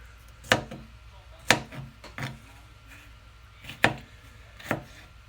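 Knife chopping bell peppers on a cutting board, five distinct sharp cuts at irregular intervals, close and clear over a quiet room.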